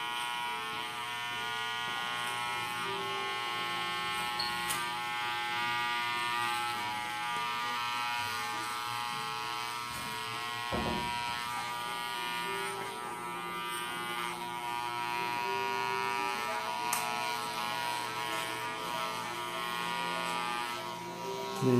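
Electric hair clippers buzz steadily up close while cutting the neckline during a 360 wave haircut, a continuous whining drone with slight shifts as the blade moves over the skin.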